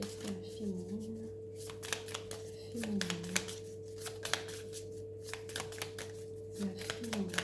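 A tarot deck is shuffled and cards are drawn in repeated papery riffling bursts with crisp snaps, close and fairly quiet, with a voice speaking softly underneath.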